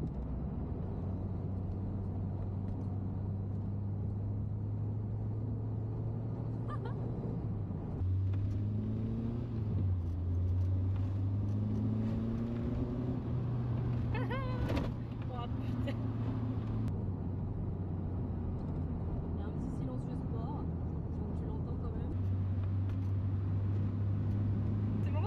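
A Peugeot 205 CTI with no ABS or ESP drives along, its engine droning steadily with rises and falls in pitch as it shifts and changes speed, under French speech from inside the car.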